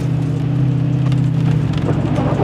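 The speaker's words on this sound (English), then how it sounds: "it's really dumping rain and stuff" Heavy rain pouring down on a vehicle on a gravel road, a dense, even patter over a steady low engine hum that drops partway through, loud and close with no talking.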